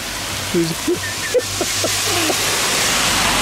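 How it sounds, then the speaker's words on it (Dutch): Heavy rain falls as a steady, loud broadband hiss throughout, with a few short voice sounds near the start. "Kijk, het gaat toch keihard regenen gewoon."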